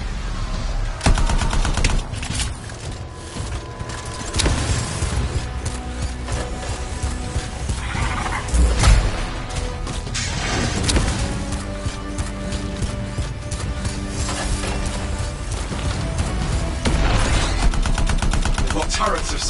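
Turrets in a video game firing long rapid bursts of automatic gunfire, loud and dense throughout, with a voice speaking intermittently over the shooting.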